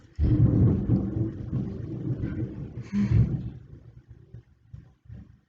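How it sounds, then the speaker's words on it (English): A deep, rolling rumble of thunder swells suddenly, surges again briefly, then fades away into quiet. "Hear the thunder."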